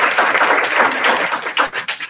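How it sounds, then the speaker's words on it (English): An audience claps for an arriving alumni guest speaker at a talk, a brief burst of steady, fairly close applause with no voices over it. "let's give him a round of applause and welcome him."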